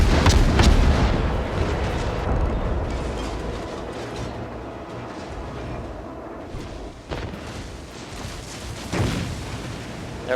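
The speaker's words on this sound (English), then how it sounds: "They're firing armor piercing at us" Naval gunfire in the World of Warships video game, with heavy booming salvos of armor piercing shells followed by a long rumbling roar and further distant booms.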